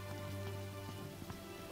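Soft, steady patter of rain falling in Final Fantasy XV, faint and continuous, with no voices over it.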